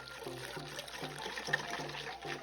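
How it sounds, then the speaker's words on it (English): Warm milk drizzled slowly into a custard mixture of egg, vanilla sugar and corn flour, giving a soft continuous trickle and pour with faint stirring taps, steady and close throughout. "Stir to combine and slowly drizzle in the milk,"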